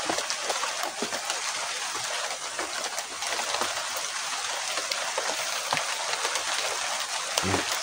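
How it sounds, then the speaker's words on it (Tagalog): Light rain falling outdoors in a very quiet setting, a soft, steady hiss of drops with occasional louder individual patters, with no talking. "Kita niyo namang ulan, no?"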